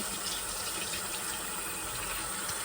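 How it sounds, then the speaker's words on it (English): A retainer is rinsed under a running tap, a steady, dense rush of water close by that stays constant throughout, with no talking. "This is me washing my retainer out."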